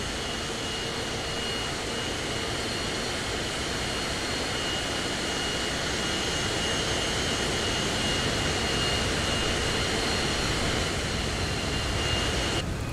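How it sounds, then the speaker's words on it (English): Jet engine idling in a warbird session of the Microsoft Flight Simulator video game, a steady, faint broadband roar with a thin high whine, holding constant throughout without any talk. "Somebody's jet's on still."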